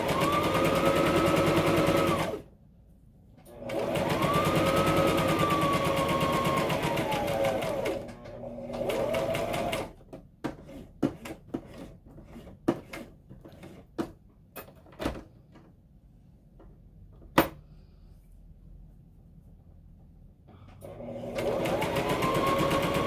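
A sewing machine stitches a tote bag in several fast, steady buzzing runs separated by pauses. During the pauses there are sharp clicks and taps from backstitching and the presser foot being lifted before the stitching starts again.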